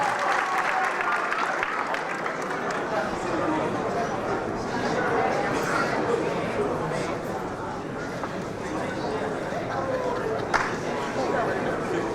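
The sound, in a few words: audience applause for pageant finalist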